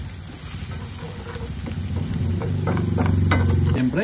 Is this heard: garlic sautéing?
yes